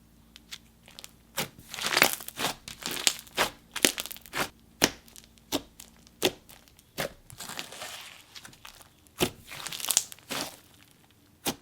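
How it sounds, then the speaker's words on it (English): Crunchy lemon-scented slime mixed with bingsu beads is squished and pressed close up, giving a dense run of crackling, crinkling crunches in quick irregular bursts, with no talking. "I do love the added bingsu beads for a little bit of texture and crunch"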